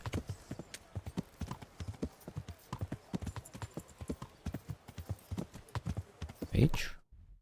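Rhythmic clip-clop of horse hooves in a video game trots steadily, close and clear, with a short whinny near the end before the sound cuts off.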